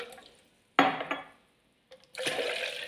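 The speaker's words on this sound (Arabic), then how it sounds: "وهننزل بالميه، كوبايتين الميه" Two cups of water poured into a blender jar while making a qatayef batter, coming as two separate splashy pours with a short quiet gap between them, close and fairly loud.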